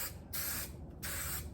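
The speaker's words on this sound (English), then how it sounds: "But go ahead and spray it." Adhesive spraying onto an upholstery door panel board in two long hissing bursts, the second after a brief pause, close and steady with no talk.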